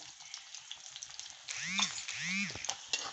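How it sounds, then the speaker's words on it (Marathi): Finely chopped onion frying in hot oil for a spicy sukha chicken, a steady close sizzle that swells in the second half, with two rising-and-falling tonal sweeps from a utensil scraping through the pan. "तेल गरम झालं की त्याच्यात मोठ्या आकाराचा कांदा बारीक चिरून घेतलेला आहे. तो आता गुलाबी रंगावर परतून घ्यायचा."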